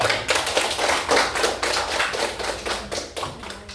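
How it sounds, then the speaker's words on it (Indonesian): A crowd of people clapping steadily, a dense run of hand claps with rhythmic swells, fairly close and continuous throughout. "Tepuk tangan untuk kelompok D."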